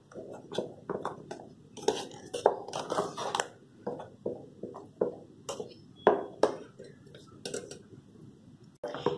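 A spoon stirs thick amla jam in a pot with cloves and cinnamon, sounding as repeated close scraping knocks and clinks against the metal in an irregular rhythm.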